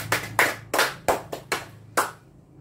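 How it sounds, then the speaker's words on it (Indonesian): A classroom bursts into brief applause for a student, six quick clustered rounds of hand claps in rhythmic bursts, close and fairly loud, with no talking over them. "Beri tepuk tangan kepada Siana."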